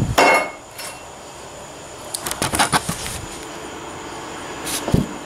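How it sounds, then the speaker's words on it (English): A 4-pound sledgehammer strikes a horizontal flux-core butt weld in steel, giving a few sharp metallic impacts: one loud hit at the start, a cluster of clanks midway, and another near the end. "And it handled the 4-pound sledge."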